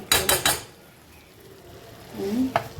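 A metal spoon scrapes and clanks against a pot while chicken biryani is stirred, with three quick clatters at the start, a quiet stretch, then a soft murmur and one more knock near the end.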